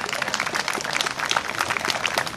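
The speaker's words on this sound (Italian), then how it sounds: "Farei anche un applauso a Massimo Romanelli." An audience at a book presentation in Italy applauds to welcome a guest, a dense, even wash of many hands clapping at once, fairly loud and continuous with no speech over it.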